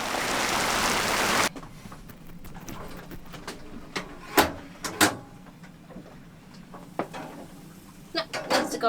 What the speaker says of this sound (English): Huge squall just came through. Everybody got shifted about 60 degrees north, and there is rain pouring down.